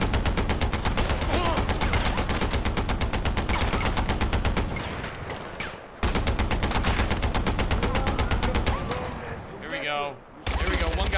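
A mounted gun in Far Cry 4 fires long, rapid, loud and close bursts, unbroken except for two short pauses, with a voice talking underneath.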